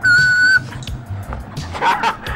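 A person whistles one steady, clear, bright note lasting about half a second at the start, then it gives way to murmuring voices and background noise from a sports broadcast.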